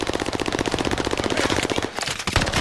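Sustained automatic gunfire in the video game Call of Duty: Warzone Pacific rattles out as a fast, even stream of loud shots, with a short break and a few more bursts near the end.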